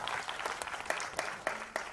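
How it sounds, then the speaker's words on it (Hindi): An audience applauds at the launch of a ghazal album, a soft, fairly distant patter of clapping with a few sharper individual claps standing out near the end. "तालियां।"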